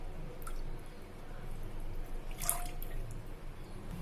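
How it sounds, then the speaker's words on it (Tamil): About two tumblers of milk are poured into a pan for rava burfi, making a soft, steady liquid pour with small drips and a brief splash midway through. "இப்போது அதே பாத்திரத்தில் 2 டம்ளர் அளவுக்கு பால் ஆட் பண்ணிக்கலாம்"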